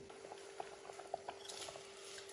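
A Maggi mixture simmers in a pot with soft, scattered bubbling pops, faint and close, over a quiet steady hiss.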